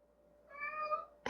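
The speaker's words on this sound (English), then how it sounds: "Meow. Meow. Meow. Miss Dutchie's a Maine Coon" A Maine Coon cat gives a single short, clear meow close by, rising then fading, followed by a brief click at the end.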